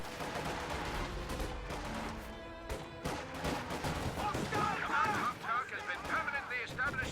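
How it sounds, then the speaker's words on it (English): Flak emplacement in Company of Heroes firing during a base battle, a dense barrage of overlapping gunfire and explosions rumbling steadily at full loudness while a voice talks underneath. "Flak emplacement firing on the in-progress battle group headquarters."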